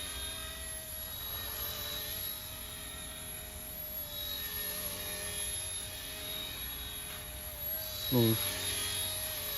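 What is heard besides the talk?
Bell 206 micro RC helicopter flying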